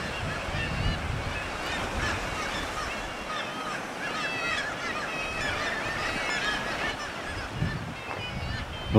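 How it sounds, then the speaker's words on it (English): Seabirds call from coastal sea cliffs near a lighthouse, a chorus of honking, squawking cries over steady surf and wind, with a faint voice at times. "A lot of birds in the cliffs."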